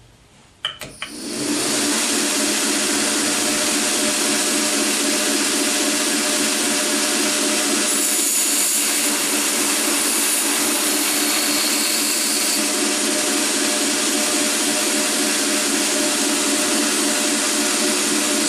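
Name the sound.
belt grinder rough hollow grinding a knife blade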